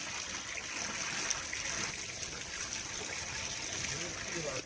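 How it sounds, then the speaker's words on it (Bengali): Fresh date palm sap is poured in a village setting, a steady soft trickle and splash of liquid running continuously throughout, close and quiet, with a voice speaking over it. "রস ঢেলে দিচ্ছি দেখুন"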